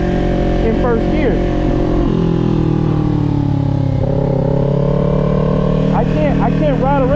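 A motorcycle rides slowly at about 20 mph in first gear, its engine droning steadily with small throttle changes and rising and falling pitch, while a rider talks over it.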